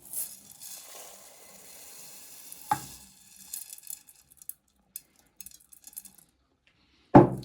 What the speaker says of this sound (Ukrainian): А тепер сюди додаємо цей рис.